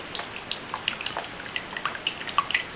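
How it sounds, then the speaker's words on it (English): A whisk beats eggs and Vermont white, sharp and mild cheddar in a bowl, giving a quick run of light, wet clicking and tapping that repeats steadily at close range. "or whisk this all together"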